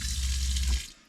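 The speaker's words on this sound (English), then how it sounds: "it also kind of shows how the faucet works" Water from a faucet in a Ram ProMaster camper van conversion streams steadily into a sink at close range, then cuts off abruptly near the end.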